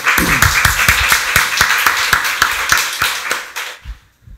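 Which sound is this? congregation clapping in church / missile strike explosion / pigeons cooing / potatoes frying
congregation clapping in church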